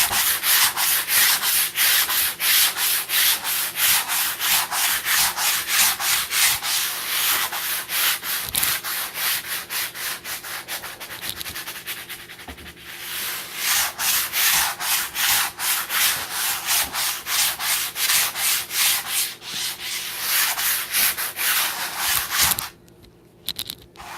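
A surface primed with acrylic is sanded by hand in steady, rapid back-and-forth scratchy strokes, close and continuous for over twenty seconds before stopping abruptly.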